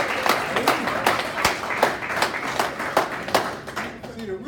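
An audience at a VIP reception claps for the guests, a fairly brisk run of applause with distinct claps, and a voice speaks over it toward the end.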